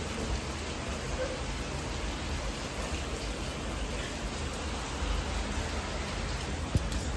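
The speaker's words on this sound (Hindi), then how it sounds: "ये देखिए गाइस, बारिश कितना तेज हो रहा है" Heavy rain pouring steadily in a thunderstorm, a dense continuous hiss of drops striking surfaces close by with a single sharp knock near the end and no voices.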